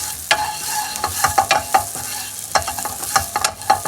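Sliced large onion fries in oil, crackling and sizzling close up while a utensil scrapes and stirs in a quick, uneven series of sharp clacks.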